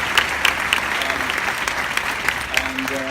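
Audience applause at a live talk or screening, a dense steady wash of many hands clapping that fills the whole stretch, with a few bright claps standing out and a voice faintly underneath.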